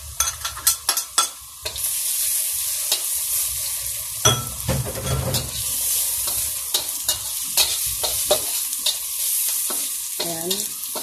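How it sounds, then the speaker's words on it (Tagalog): Dried prawns go into a hot pan and are stirred and fried, a steady close sizzle with repeated sharp scrapes and clinks of a utensil against the pan, while cooking Filipino ginataang langka (jackfruit in coconut milk). "lagay natin yung dry prawn para mag-isa siya"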